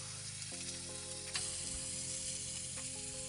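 An egg fries on a SAN Hima gas camp stove, a soft, steady sizzle with a faint background hiss and a few small clicks, quiet and with no talking.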